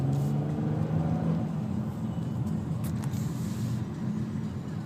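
A 2012 Nissan Maxima accelerates with a steady engine hum and whirring drone from inside the car, fairly loud and even throughout, with no talking.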